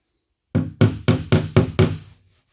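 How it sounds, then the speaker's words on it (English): A hammer taps a high spot of cured Bondo body filler along a car's body line, five firm, closely spaced knocks with a short dull ring and no talking. "So let's just tap it in just a little bit."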